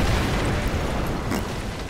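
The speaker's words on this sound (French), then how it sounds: "Belle explosion, les gars." A loud, sustained rumbling explosion in Call of Duty: Modern Warfare 3, with heavy low-end roar that fades slightly over a couple of seconds.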